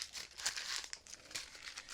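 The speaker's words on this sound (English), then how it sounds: "As I crumple it up and smash it." Sheets of paper are crumpled and crushed by hand, giving a close, dense run of crackling crinkles with sharper bursts of tearing-like rustle throughout, and no voices.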